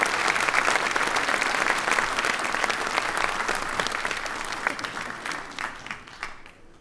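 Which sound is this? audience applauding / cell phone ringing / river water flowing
audience applauding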